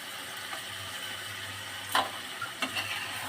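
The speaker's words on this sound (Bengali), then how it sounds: "ভালো করে এটা ভাজবো শুকনো শুকনো হওয়া পর্যন্ত" Spices fry in a pan for aloo motor dum, a soft, steady sizzle broken by a few scraping, clattering stirs near the end.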